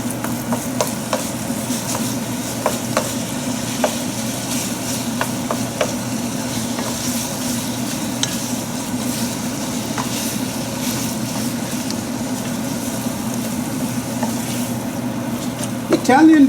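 Ground chicken and onions frying in a pan and stirred, a steady low sizzle with scattered scraping and clicking stirs throughout.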